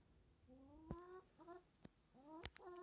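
A chicken indoors standing on an end table gives several short, nasal clucks and rising squawks in small bursts, heard close and fairly quietly, mixed with a few sharp knocks.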